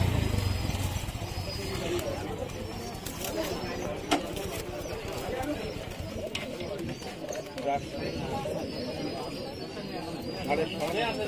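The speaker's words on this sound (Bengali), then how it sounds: "কবুতরটার ডাক কিন্তু খুব ভালো।" Pigeons coo repeatedly among many caged birds at the Kumarkhali pigeon market in Kushtia, soft throaty calls mixed with chirps under steady nearby chatter and market bustle.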